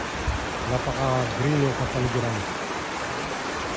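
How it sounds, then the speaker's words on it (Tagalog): Rushing water roars steadily at Bolinao Falls in Pangasinan, a broad constant wash of noise from the strong natural waterfall, with a person speaking over it for a couple of seconds. "Ang lakas ng falls dito."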